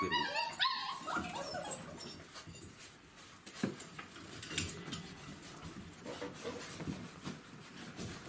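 Puppies whimper and squeak beside their mother dog in a steady stream of soft, high cries, with occasional louder yelps standing out from the close, continuous litter noise.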